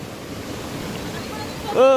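Rushing water at Laligan waterfall gives a steady wash of noise, with a voice exclaiming loudly near the end.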